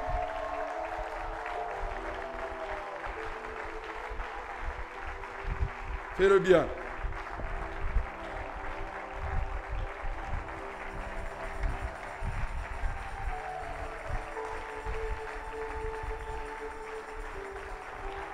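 A church congregation applauds and cheers during a sermon, with a brief louder swell of clapping near the middle, all under a preacher's continuous speech.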